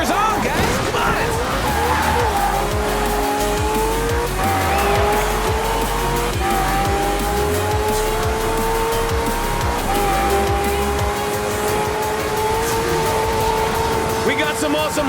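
Race cars roar through a street race in the video game Forza Horizon 4, engines droning loudly and steadily while tires squeal in long sustained whines, with someone talking over the action.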